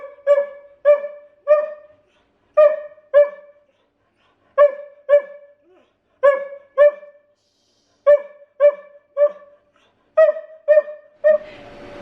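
A dog barks in short bursts of two or three, with repeated pauses, nearby and loud, sometimes ending in a whine, eager to go out for a walk.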